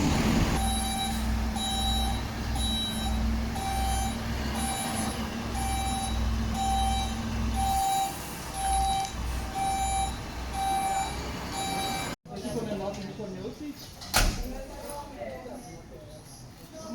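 A fire truck reverses with a regular run of loud beeps over a low diesel rumble, then the beeping stops and the engine idles on; partway through, a hard cut leads into people talking with a sharp knock.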